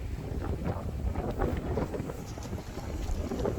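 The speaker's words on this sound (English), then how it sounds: "Man, it's windy." Strong wind blows outdoors, buffeting the microphone with a continuous loud, rumbling roar that rises and falls in gusts throughout.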